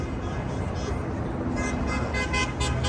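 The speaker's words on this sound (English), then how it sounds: "getting some horn honks out here." Car horns honk from passing traffic at a roadside protest against Tesla, short toots over a steady road rumble, moderately loud and close, with faint voices nearby.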